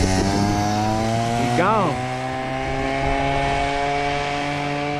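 Stunt mini bike engine revving loudly as a young rider throws it around, the pitch rising and falling sharply with a quick throttle blip midway, under a man's brief remark.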